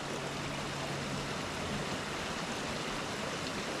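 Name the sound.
dangerous river flowing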